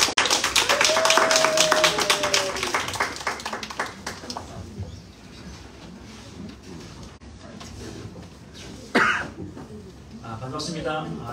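A church congregation at a Sunday service claps loudly as the applause starts and then gradually dies away, with a few coughs and scattered talk toward the end.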